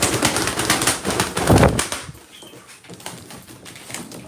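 A man's own pet pigeons, including a grizzled male, flutter and shift about close by, with busy wing flapping and scuffling that grows louder, then drops to quieter scattered rustles.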